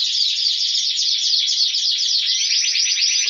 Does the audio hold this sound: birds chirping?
yes